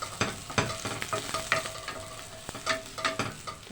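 Quick sauté of seasoned chicken wings being stirred in a hot pan, with repeated scraping stir strokes over a steady sizzle, close and moderately loud, no talking.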